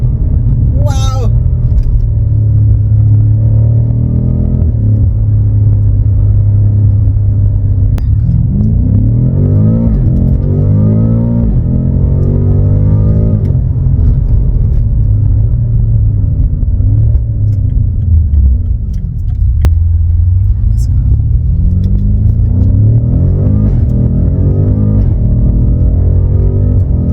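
A BMW F90 M5 accelerates hard on the road, its engine note climbing through repeated rising sweeps and gear changes, loud and close from inside the cabin, with occasional voices reacting under the steady roar.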